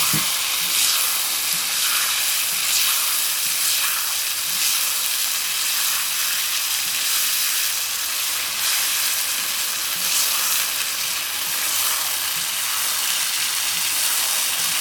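Shrimp stir fry with ginger, garlic and sauce fries in a pan with a loud, continuous hiss and sizzle. It stays steady and close for the whole stretch, with no voices.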